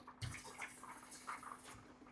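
Water running from an RV spigot into a pot of chili, a short close trickle and splash with light drips, fairly quiet and heard alone.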